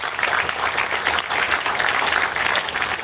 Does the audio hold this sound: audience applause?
yes